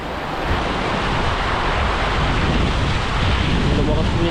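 Strong water surges in a loud, continuous roar that fills the whole stretch, mixed with heavy wind buffeting the microphone.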